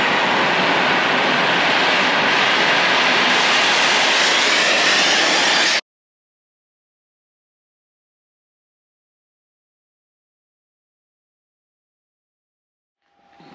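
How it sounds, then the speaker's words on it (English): An oxy-fuel cutting torch's blue flame cuts steel for a welding table, giving a loud, steady, close roaring hiss for about six seconds that stops abruptly into silence, with only a faint rise at the very end. "We want to make sure we got a pretty good blue flame coming out right there."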